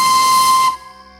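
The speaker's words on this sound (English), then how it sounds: "a loud, haunting whistle echoed throughout the air." A steam train whistle sounds as one loud, sustained hissing blast with a steady pitched tone that cuts off abruptly, leaving a faint fading ring.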